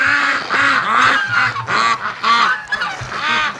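Geese honking loudly with ducks quacking among them in a pen, a continuous overlapping chorus of harsh, repeated calls close by throughout.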